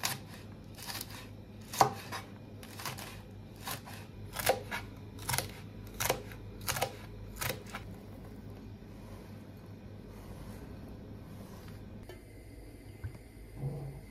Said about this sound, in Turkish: Şimdi bunları da doğrayacağım.